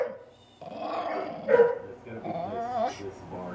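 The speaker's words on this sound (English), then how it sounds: "Those puppies are scary puppies." Small puppies yip and bark in quick bursts from a played recording, with a voice talking over and around the barking throughout.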